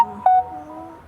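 Countdown timer in a two-player video game beeping electronically, with a short steady tone followed by a brighter, louder beep, heard alone at moderate level.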